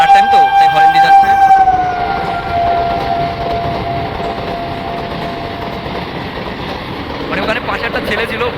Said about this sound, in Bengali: মেলার টাইম তো, তাই হরেন দিয়ে যাচ্ছে।